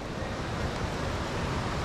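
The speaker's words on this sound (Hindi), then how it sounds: "आज आया है रिवर में, रिवर प्लस झरना" A river and waterfall in West Kameng, Arunachal Pradesh, pour out a dense, steady roar of rushing water, loud and unbroken, with no voices.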